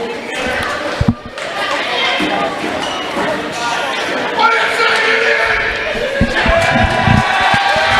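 A high school wrestling meet crowd cheers and applauds across the gym, a loud continuous roar with sharp claps and thuds, while an announcer talks over it.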